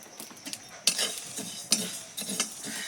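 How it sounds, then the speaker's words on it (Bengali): A spice mix with mustard seeds stirred in a pan for sour-spicy jujube pickle, with soft sizzling and several sharp metallic scrapes of a spoon against the pan, close-up and intermittent. "এবার আমি সর্ষেটা দিয়ে ভেজে নেবো একসঙ্গে।"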